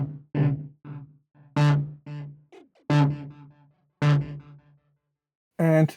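Cherry Audio's Prophet-10 clone software synthesizer, set with chorus and a slight delay, plays a series of separate, held tones that start sharply and fade, with short silent gaps between them.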